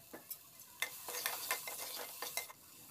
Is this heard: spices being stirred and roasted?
yes